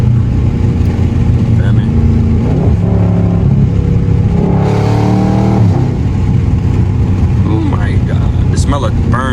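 A Dodge Charger Scat Pack engine revs hard near redline while sliding, a loud, sustained roar with rising and falling pitch sweeps, as someone speaks briefly over it.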